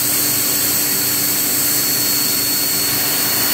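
A HAAS TM2P CNC mill circle-interpolating holes with a 1/8 inch four-flute end mill gives a loud, steady machine roar with a constant high-pitched whine throughout, with no talking.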